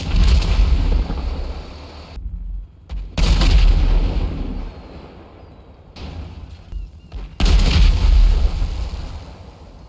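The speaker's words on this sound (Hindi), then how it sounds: "कितना बड़ा ब्लास्ट हुआ भाई" Tank cannon fire blowing up a car in GTA V, heavy booming blasts with rumbling explosion noise that cut out and return in loud bursts, loud and close.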